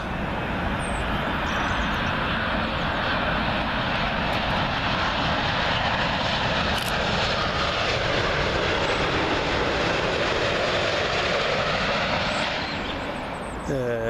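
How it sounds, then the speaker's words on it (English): An American Airlines Boeing 787-9 Dreamliner inbound from Philadelphia on approach to Heathrow runway 27L passes close overhead, a loud, sustained jet roar holding steady throughout before easing slightly at the end. "Comes another American Airlines, this time a 787-9 Dreamliner, coming in from Philadelphia, Pennsylvania."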